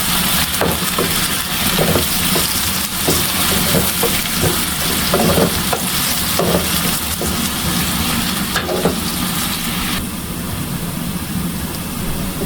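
Onion and garlic fry in a pan, a loud continuous sizzle with repeated stirring scrapes and knocks, steady throughout, no voices.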